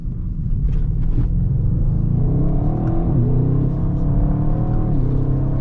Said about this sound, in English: You've got a little rumble on the downshift as well.